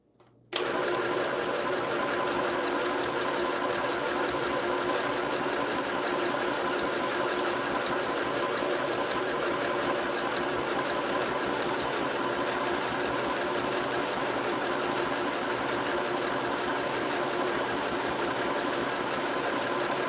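A sewing machine under test whirs into motion after a brief pause and then runs steadily and loudly for the whole stretch, a dense continuous mechanical drone with no voices.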